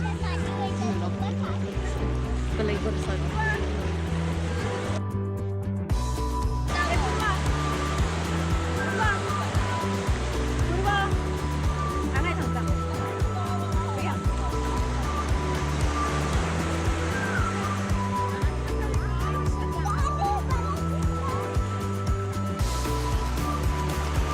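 Waves washing steadily onto the shore at Honeymoon Beach in Goa, a continuous surf roar with a boat engine droning underneath and people talking nearby.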